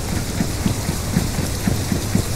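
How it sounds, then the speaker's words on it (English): Rain in the video game MiniDayZ falls as a steady, dense hiss with soft low rumbling pulses underneath, continuous and fairly loud with no voices. "Oh, goody, it's raining."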